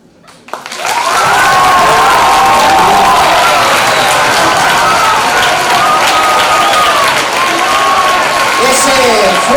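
A TV studio audience on the Spanish show Tu cara me suena bursts into loud applause and cheering after a performance, rising quickly from quiet into a dense, sustained roar with whistles and shouts riding on top.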